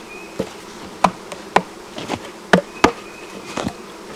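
Italian honey bees hum and buzz around an opened hive in a bee yard, with a steady drone and occasional close fly-bys, punctuated by several sharp knocks and taps from hive handling.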